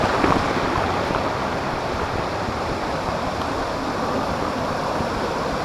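Rushing water at Odugathur Thottiparai waterfall in Tamil Nadu, a steady, full broadband roar close by that holds unbroken throughout, with a little wind noise.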